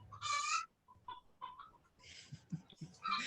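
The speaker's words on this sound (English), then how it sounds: "The chickens are agreeing." Chickens cluck and squawk a few metres away in faint, irregular bursts, with sharper calls near the start and end and softer clucks between.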